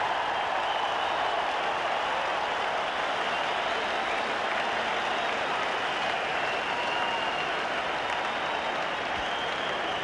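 A cricket crowd at a 1986 India versus New Zealand one-day match in Brisbane cheers a huge six, sustained dense applause and roar filling the whole stretch at a steady level.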